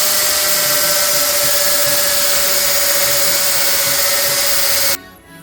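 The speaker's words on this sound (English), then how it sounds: "In the end, I had to use an angle grinder." An angle grinder cuts through a suspension bolt on a Fiat 595 Abarth with a loud, continuous high-pitched grinding whine, running steadily for about five seconds, then cutting off abruptly.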